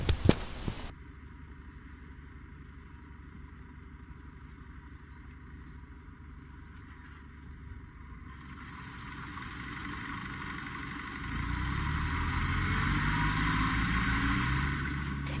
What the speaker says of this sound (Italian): Ecco a voi lo scuotitore